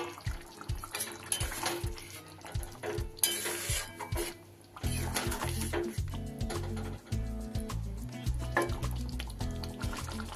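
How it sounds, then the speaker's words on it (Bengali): A spoon stirs egg dopeyaja gravy with fried eggs in a pan, making close, repeated scraping and wet sloshing strokes with occasional metallic taps against the pan, steady and unaccompanied by talk. "মিশিয়ে দেব গ্রেভির সাথে ভালো করে।"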